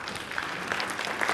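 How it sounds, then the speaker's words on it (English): Applause from the audience at a public meeting on the Baltimore–Washington maglev train, a steady wash of clapping that stays at an even level for the whole brief moment. "Please give him a round of applause."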